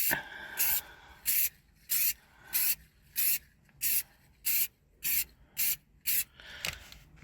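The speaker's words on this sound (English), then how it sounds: "don't need to hold the nozzle open and then just squirt a small air, just light sprays." Short bursts of black spray paint from an aerosol can, laid in light coats on the dashboard of an Austin Ambassador car. About ten hissing puffs come in a steady rhythm, each under a second, close by and clear with no talking.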